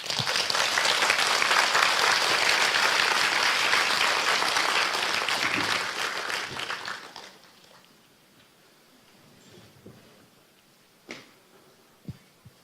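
Applause from a crowd at a Seoul book celebration, loud and sustained for about seven seconds, then quickly dying away into a quiet room with a few scattered sharp knocks.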